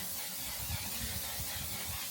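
One Size Until Done mattifying waterproof setting spray misted from a bottle, a continuous close, bright hiss lasting the whole moment with faint low thumps beneath and no talking.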